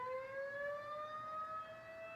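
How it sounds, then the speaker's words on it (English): Tornado siren under test, a steady distant wail holding a single tone with clear overtones, faint and unbroken throughout. "They are testing the tornado siren."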